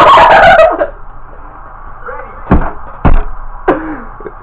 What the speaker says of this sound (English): There are loud birds.